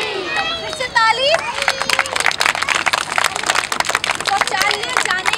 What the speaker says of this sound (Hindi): फिर से ताली।